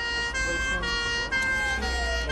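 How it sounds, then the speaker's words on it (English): An ambulance siren blares continuously with a rising and falling tone, loud and near, over the low rumble of traffic. "listening for that siren, and once you hear it, it's the most wonderful sound in the world."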